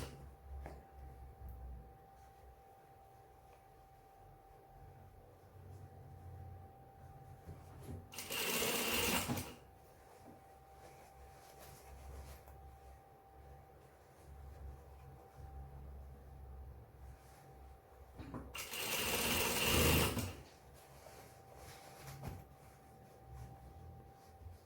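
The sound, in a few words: sewing machine stitching pants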